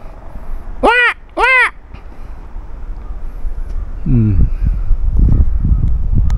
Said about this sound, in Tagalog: Ayan na, nag-uuwakan na yung mga uwak ko.